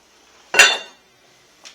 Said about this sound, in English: put our lid on